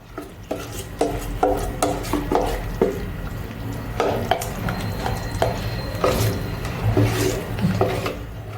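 A thick batter of five flours is stirred by hand in a bowl, giving repeated scraping, wet squelching strokes in an uneven rhythm, close and fairly loud, with no talking.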